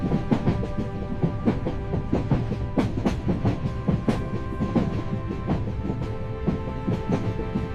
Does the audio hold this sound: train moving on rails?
yes